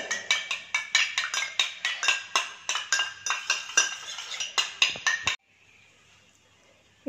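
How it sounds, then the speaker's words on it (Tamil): Beaten eggs with pepper and salt being whisked briskly in a bowl, a fast steady run of sharp clicking strokes against the sides, close and loud, stopping abruptly into near silence. "நல்லா கலந்து விட்டுருங்க."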